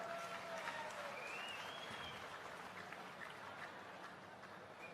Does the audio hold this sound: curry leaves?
no